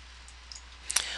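Computer mouse clicks on a report screen in Dynamics GP: a couple of faint ticks, then one sharper, close click near the end, against quiet room noise.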